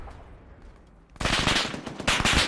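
Bursts of heavy machine gun fire from an M113 armored carrier in the Arma 3 combat game, a rapid loud rattle breaking in suddenly after a quieter moment.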